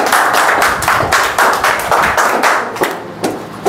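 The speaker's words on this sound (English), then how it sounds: "Clap for Mukesh." A small class claps for a shy student on the first day of a spoken English lesson, with close, uneven handclaps in loose bursts that thin out and grow sparser toward the end.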